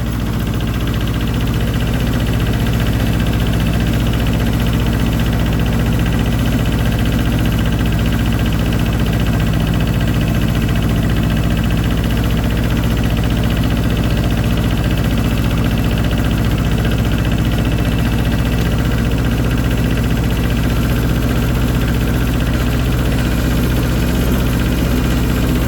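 A diesel farm tractor engine idles steadily, a loud, close, continuous low rumble with a constant even throb and no change in pace throughout, with no talking.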